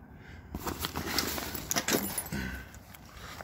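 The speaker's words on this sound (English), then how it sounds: "Technical difficulty with the zipper." A zipper on a tactical go bag is tugged and fought with in short rasping bursts, mixed with rustling fabric and light metallic jingling of the pull, close up with no talking.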